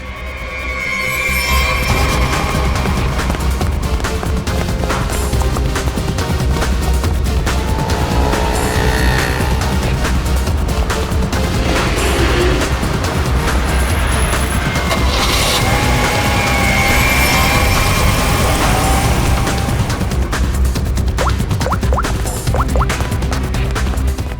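A getaway car speeds off as a fleeing suspect escapes, its engine roaring loud and steady for the whole stretch amid a dense dramatic mix with occasional tire noise and impacts.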